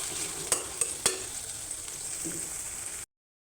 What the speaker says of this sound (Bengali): পেস্টটা একটু নাড়াচাড়া করে দেবো, এটা ভালোভাবে একটু ভাজা ভাজা করে নেব।